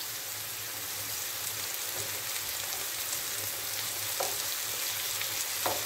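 Kıvırma flatbreads fry in a pan with a steady, fine crackling sizzle that continues unbroken, joined by a couple of sharper pops near the end and a faint low hum underneath.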